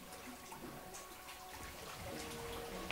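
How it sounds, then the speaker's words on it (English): Soft, steady wash of water from waves breaking in a mossy lakeside cove on Lake Superior, heard faint and continuous without speech. "I can't believe the sound of the crashing waves, how loud that is."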